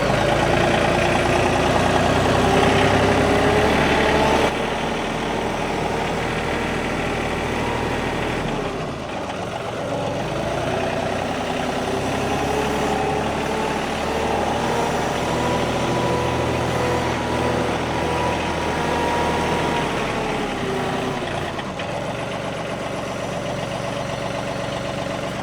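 A tractor engine running near and loud, a steady rumbling drone that drops a little in level after the first few seconds, then holds an even idle with slight pitch changes, no talking.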